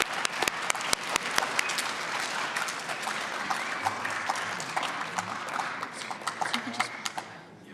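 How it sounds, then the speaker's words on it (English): An audience applauds two young gentlemen who stepped up at an Asian Heritage Month event, steady dense clapping with sharp individual claps standing out, a voice briefly speaking over it as it tapers near the end. "let's give these young gentlemen a hand of applause for stepping up"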